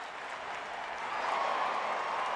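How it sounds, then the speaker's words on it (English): Baseball fans cheering at PNC Park during a Reds at Pirates game, a steady broad crowd roar that swells slightly toward the end, with no clear voices standing out. "They are cheering Vogelsong."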